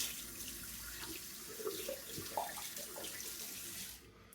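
Tap water running steadily into a sink while a face is rinsed after a shave, a continuous close splashing rush with faint irregular splatters that cuts off at the end.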